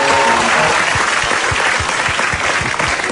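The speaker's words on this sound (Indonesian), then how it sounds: "tepuk tangan buat Cinta Laura" A studio audience at a comedy talk show applauds Cinta Laura, loud, dense and sustained clapping that fills the room from start to finish.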